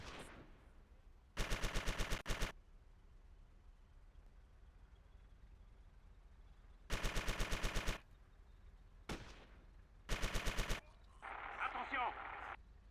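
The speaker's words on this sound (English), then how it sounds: "He's got a submachine gun." Submachine gun fire in the Theatre of War French campaign, four separate rapid automatic bursts of about a second each, loud and sharp against a quiet background, with a noisy rustling patch at the end.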